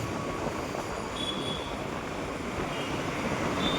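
A metro train runs at Metukuda Metro station in Hyderabad, heard as a steady, fairly loud rumble of wheels and rail noise with faint high squeals, taken from a passing motorbike ride.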